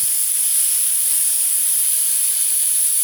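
Lao-style grilled beef sizzles in a hot pan, a steady, loud, even hiss that holds without a break and with no voices over it.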